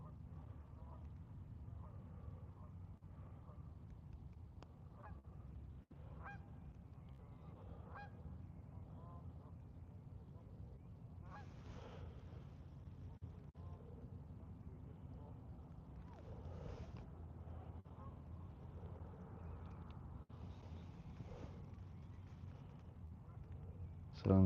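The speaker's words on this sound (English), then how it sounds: "Sounds are peaceful from the geese." Geese honk in scattered, fairly faint bursts across a Montana causeway where walleye fishing is under way, over a steady low rumble of wind and water.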